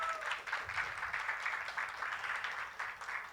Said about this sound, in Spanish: Un aplauso por favor para Erika, ahorita la van a conocer.